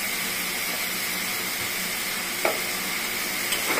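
Chichinga (snake gourd) curry stirred in a pan, a steady close sizzle and hiss with a couple of brief scraping strokes of the spoon against the pan, no voices.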